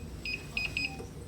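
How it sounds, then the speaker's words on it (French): Anti-theft lock alarm on a Xiaomi M365 electric scooter gives three short high-pitched electronic beeps in quick succession, moderately loud and close, over a low background hum. "si vous entendez bien, il y a une alarme et le moteur il vibre et vous ne pouvez pas rouler avec"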